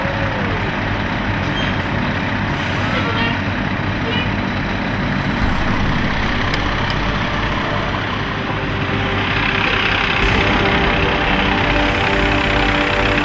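A Washington DC fire truck engine idles with a steady low rumble, a few faint clanks and light voices in the background.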